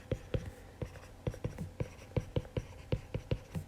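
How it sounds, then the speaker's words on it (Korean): A pen writes a physics formula for uniformly accelerated motion on paper, giving close, crisp taps and short scratchy strokes in an irregular rhythm with no speech. "일단 공식을 이렇게 써보면은 자, 첫 번째 식을 한번 먼저 써볼게요."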